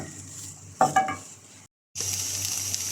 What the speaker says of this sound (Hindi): अब प्याज में थोड़ा चमचा चलाएंगे